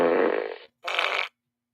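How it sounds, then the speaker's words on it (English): Fart sound effect: two loud, buzzy blasts in quick succession, the first longer and lower and the second shorter and higher, then silence. "how many fart sounds do you have?"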